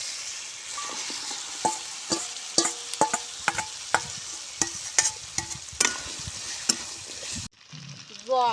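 Crab pieces fry in spiced oil masala in a village-style Bengali kitchen. The oil sizzles steadily, broken by repeated scraping stir strokes, until the sound cuts off abruptly near the end.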